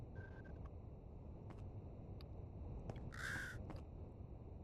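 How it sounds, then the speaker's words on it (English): A crow caws inside a video game, with several short harsh calls spread across the moment and one stronger caw near the end, heard faintly over a low steady background hum. "I can hear a crow, but I don't think it's about. I think it might be behind the wall, in a cage, locked up."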